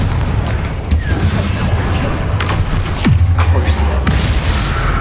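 Confringo fire spell in the game Hogwarts Legacy: loud, dense combat din with a booming blast and swooping whoosh near the middle and sharp impacts after, continuous throughout.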